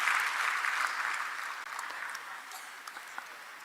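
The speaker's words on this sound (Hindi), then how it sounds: "तालियों से स्वागत करेंगे श्री दीपक डांगी जी का।" An audience at a Bhopal ceremony honoring UPSC achievers with Chief Minister Shivraj Singh applauds to welcome Deepak Dangi, a steady wash of clapping that gradually softens, with a few isolated claps near the end.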